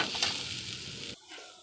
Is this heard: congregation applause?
no